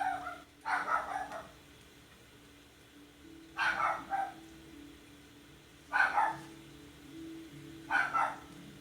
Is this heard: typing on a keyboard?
no